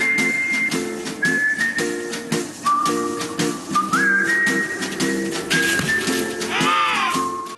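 A person whistling a wavering, sliding tune in short phrases over a backdrop of bleating sheep or goats and a rhythmic thumping march beat.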